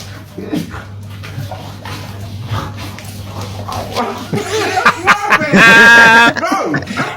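A dog yips, whimpers and barks excitedly while racing a man, the sharp calls coming close and loud in short bursts, with people talking and laughing throughout.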